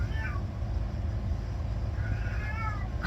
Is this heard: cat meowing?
yes